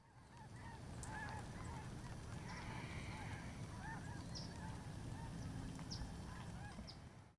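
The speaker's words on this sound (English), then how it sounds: "These are Canada geese." Canada geese honk repeatedly at moderate distance in an outdoor setting, their calls standing out in scattered bursts over a steady low background rumble.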